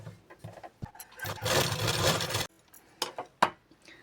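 A sewing machine runs a diagonal stitch across blouse fabric, a close, steady whirr lasting about a second, framed by soft clicks and fabric handling before and after.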